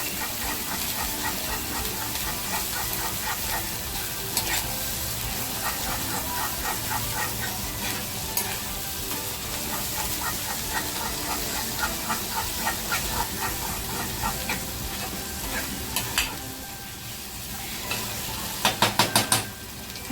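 Spicy mutton kharda masala sizzles and fries in a pan while a spoon stirs it steadily, a continuous close hiss with scraping strokes and a few sharper clatters near the end.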